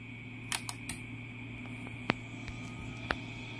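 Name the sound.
relay clicking on power-up of Konzert AV-502USB amplifier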